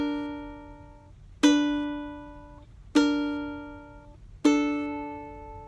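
Guitar chords for a theme are strummed one after another, each ringing out and fading before the next. Four clear chords fall at an even, unhurried pace, with no voice.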